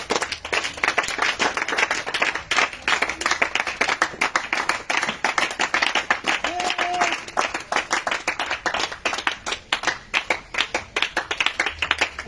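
A church congregation claps and applauds continuously and loudly, with dense, steady handclaps filling the space throughout and a brief faint voice rising above them midway.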